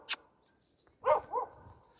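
A dog in the town of Kam'yanka, Ukraine, gives two quick barks in close succession, fairly near, after a short faint yelp and a quiet pause.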